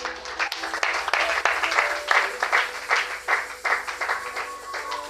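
Church congregation applauding Jesus during a service, sustained rhythmic clapping from many hands with voices mixed in, close and loud throughout.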